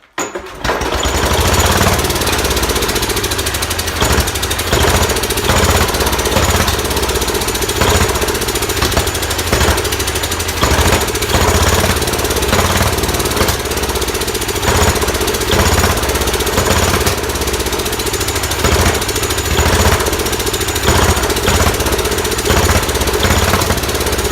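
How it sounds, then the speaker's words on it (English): A big old Kohler K331 single-cylinder engine, primed with carb cleaner and fitted with a muffler, fires after a short start and then runs loud and steady with a hard, rapid knocking beat and occasional backfires from the carburetor. "here we go with start number 2 on the big old Kohler. Just sprayed a little more carb clean."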